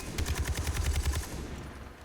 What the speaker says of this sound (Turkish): Oha 60 mermi sıktım adamın üstüne